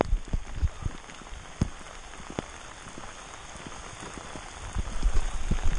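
Heavy rain patters and splashes continuously on surfaces nearby, with scattered louder drops and a surge toward the end; no talking.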